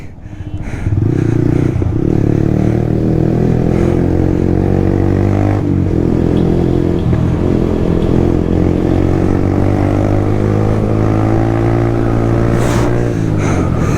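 A motorcycle that is being modified runs after starting, its engine holding a loud, steady, close-up idle with a low throb for the whole stretch and a small dip near the end.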